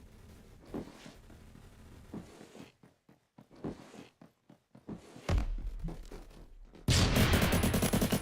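Hip-fire gunshots ring out in the Phantom Forces video game: scattered single shots and short bursts with clicks and handling noises between them, ending in a loud sustained stretch of rapid fire.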